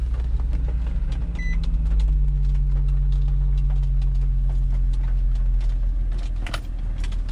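Infiniti G35 engine idling just after a push-button start, a steady low hum running throughout with faint small clicks and handling noises on top, no talk.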